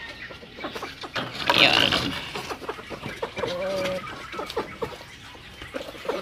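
Backyard breeding pen chickens clucking, with a louder burst of hen calls early on and a short rattling, steady-pitched call in the middle, all under intermittent nearby speech.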